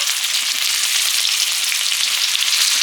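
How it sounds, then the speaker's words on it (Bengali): Boiled new potatoes frying in mustard oil for aloo dum, giving a loud, steady, dense sizzle that holds evenly throughout with no voices. "সর্ষের তেল আলুর দম হবে সেদ্ধ করা আলুগুলো ভেজে নেব দমের জন্য"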